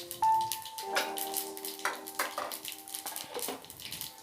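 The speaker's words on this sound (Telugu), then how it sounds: "చూడండి ఆవాలు బాగా వేగుతున్నాయండి" Mustard seeds and cumin fry in a hot pan, giving a faint, close crackle and sizzle under light clinks of a utensil against the pan, with a few tonal hums and no clear talking.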